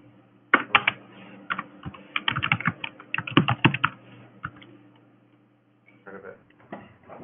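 Bursts of typing on a computer keyboard come through a remote meeting call: rapid clattering key clicks in uneven clusters, close and fairly loud, with a short quiet gap before the tapping resumes.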